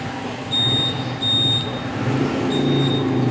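Alarm remote on a 2019 Honda Click 150i scooter sets off short high electronic beeps, three evenly spaced chirps heard close over a steady low background hum.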